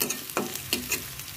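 Dried red chillies, onion and garlic fry in oil for a chutney, giving a brief sizzle broken by a few sharp scrapes of stirring, close and moderately loud.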